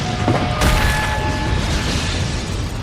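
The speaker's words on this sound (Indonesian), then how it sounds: "telah terjadi ledakan besar di dalam sebuah bank yang kebetulan bersebelahan dengan toko gaun" A big explosion tears through a bank in a film scene, a sudden loud broadband blast followed by a sustained rumbling roar that stays heavy for several seconds, with no talk.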